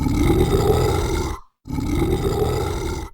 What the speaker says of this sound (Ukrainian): Ой, великий ведмедик гарчить.